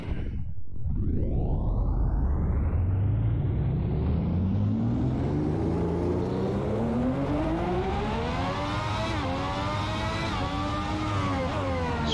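A Ferrari 641 Formula 1 car in the Assetto Corsa racing game, driven at Monaco, drops to a low rumble then climbs through a long, screaming rev as it accelerates, high-pitched and continuous, with a brief gear-shift dip near the end.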